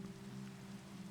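Rain patters faintly and evenly on a surface outdoors at a river dig site, a soft steady wash under a low background hum.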